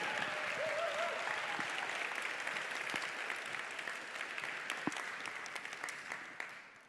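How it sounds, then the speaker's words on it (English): An audience at an EA Global conference in San Francisco claps in a dense, sustained round of applause that stays steady for several seconds, then thins out to scattered final claps as it fades away. "Round of applause for the full CEA staff."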